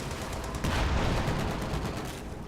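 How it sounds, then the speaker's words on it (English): Sherman tank volley hitting a mortar crew in Company of Heroes 2, a dense, loud burst of gunfire and rumbling combat noise swelling after a brief moment and then fading slightly. "Sherman rolling ahead. Catching the mortar crew in a splendid volley."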